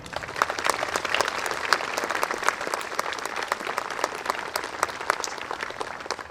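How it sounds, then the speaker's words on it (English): A crowd claps steadily for several seconds at an outdoor Memorial Day service in St. Marys, Ohio, honoring service members, a dense, even round of applause with no voices standing out. "Can we please give our service members a round of applause?"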